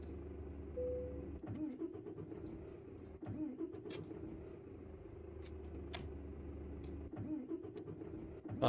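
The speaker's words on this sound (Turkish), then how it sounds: "Buradan aracımızı bir çalıştıralım." A Mercedes Travego bus engine in Euro Truck Simulator 2 cranks and starts, then settles into a low steady idle rumble with intermittent clicks, sitting under someone talking.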